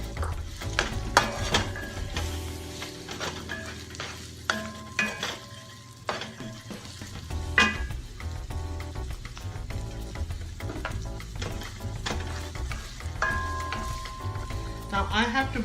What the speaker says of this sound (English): Now I have to brown these onions